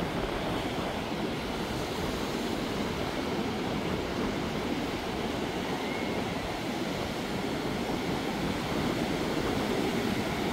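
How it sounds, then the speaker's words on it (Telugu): Big ocean waves at Chirala beach, a broad, rumbling surf roar that rolls on steadily at moderate loudness, with wind noise mixed in and no speech. "ఓషన్ కూడా మనకి ఇక్కడ పెద్ద పెద్ద అలలు అయితే వస్తున్నాయి"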